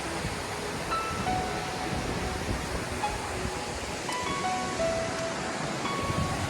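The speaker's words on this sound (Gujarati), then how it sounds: "ડેમની ઉપરથી આટલું બધું પાણી આવી રહ્યું છે" Broad, steady rush of a large volume of water pouring over a dam on a swollen river near Jamnagar, a continuous roar with no breaks and no voices.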